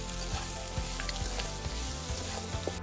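Garlic and onion frying in a pan for a bacon and dried chili pasta, a steady close sizzle with occasional clinks of a spatula stirring.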